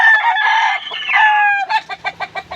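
A rooster on a gamefowl farm crows loudly and close by in one long strained call, then breaks into a quick run of clucks, with no talking.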